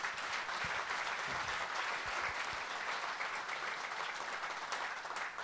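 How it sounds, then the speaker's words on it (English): Sustained audience applause at a Scottish golf national conference, honouring a panel; steady dense clapping filling the room throughout, even and unbroken, with a few faint voices mixed in. "Give our panel a warm round of applause."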